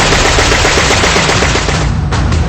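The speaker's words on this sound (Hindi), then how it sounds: "आसमान में उड़ते हुए F-35 दनादन गोलियां दागता है।" Rapid, continuous machine gun fire from an F-35 fighter jet in flight rattles loudly and densely for a few seconds, the bursts blurring into one harsh roar.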